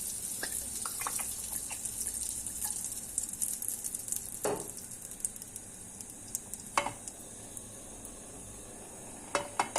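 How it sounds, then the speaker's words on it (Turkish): Butter melting in a hot frying pan before eggs go in for an omelet, giving a steady soft hiss with faint crackles and a few sharper pops and clinks, close by, with no talking. "bir yemek kaşığı kadar tereyağı aldım. Bunu tavanın içinde eritiyorum."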